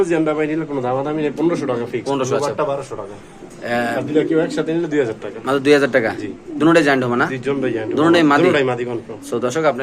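Giant Homa female pigeons coo at a pigeon farm, their low throaty calls mixed under near, steady talk that runs through most of the stretch.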